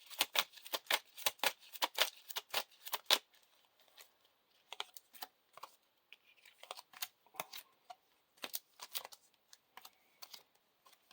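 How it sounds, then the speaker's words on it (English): Playing cards for The Lord of the Rings card game being shuffled up close: a run of quick riffling clicks, then scattered softer card snaps and slides, with no voices. "We got to shuffle the whole encounter discard pile in here."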